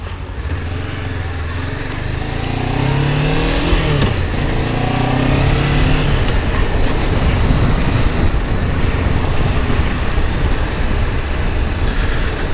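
A Honda CBR sport motorcycle is ridden on the road, its engine note rising and shifting in pitch through the gears in the first seconds before settling into a loud, steady wind-blasted roar.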